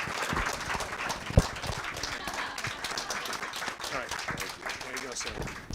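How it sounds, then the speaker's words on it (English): An audience claps to welcome a speaker at an evening presentation, a moderate, sustained patter of applause in a room with some voices over it. "if you could join me in a round of applause"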